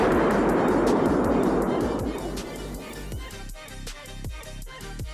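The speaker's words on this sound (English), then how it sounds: "I want to quickly show you what a 100-ton explosion looks like" A 100-ton explosion during weapons disposal in Iraq rolls out as a heavy, loud rumble that slowly fades, leaving a thinner, rattling tail.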